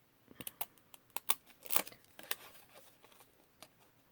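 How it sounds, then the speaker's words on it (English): Small zigzag craft scissors snip through paper in a string of quick, crisp cuts, some single and some in rapid clusters, close and fairly quiet. "I got my little zigzag scissors. Let's just see what it looks like."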